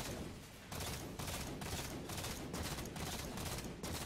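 Rapid automatic weapon fire from Halo 4 rattles in dense, sustained bursts with brief gaps between volleys, moderately loud and close with no voices over it.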